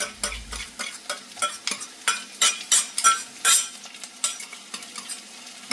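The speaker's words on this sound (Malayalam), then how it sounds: "ഇനി അതിലേക്ക് ഇഞ്ചി വെളുത്തുള്ളി ചെറുള്ളി പേസ്റ്റ് ഇട്ട് കൊടുക്കുകയാണ്" Ginger, garlic and shallot paste frying with onions and potatoes for a Kerala-style chicken liver curry: rhythmic stirring strokes scrape the pan in regular bursts over a soft sizzle, close and clear, without talk.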